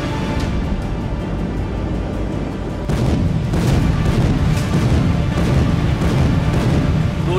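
Heavy artillery on a front line fires in a series of deep, thunderous booms, several spaced blasts rolling over a continuous low rumble that grows louder partway through, with no voices.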